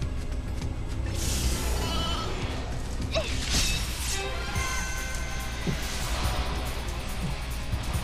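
Sheep bleats from the video game Final Fantasy XIII-2, a couple of short wavering cries mixed into busy battle music and effects.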